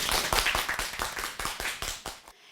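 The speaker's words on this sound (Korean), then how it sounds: "박수 한번 칠까요," Students in a classroom clap their hands together, celebrating the passage of a local bird-collision prevention ordinance in Naju; a few close, loud, rhythmic claps ring out in quick succession, then stop abruptly.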